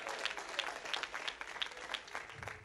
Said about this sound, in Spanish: Fuerte el aplauso a Cristo en esta hora.